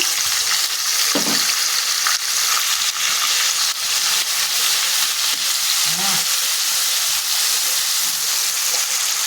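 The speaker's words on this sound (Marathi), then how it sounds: "तर इथे आपण अद्रक लसूणची पेस्ट सेपरेट केली होती, ते आपण यामध्ये घालून घ्यायची." Ginger garlic paste sizzles and fries steadily in a hot pan for chole masala, a continuous close crackling hiss with a few brief clinks, no voices.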